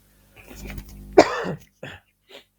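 A single sharp cough at close range, followed by a couple of softer throaty bursts, with a low murmur before it.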